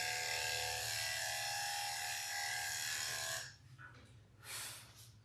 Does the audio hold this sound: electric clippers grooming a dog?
yes